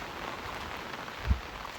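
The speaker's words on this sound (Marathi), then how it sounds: "पाऊस पण आहे मस्तपैकी." Steady rain falls outdoors in a village on a festival day, a continuous even patter on surfaces with one brief louder drop or knock near the end, and no voices.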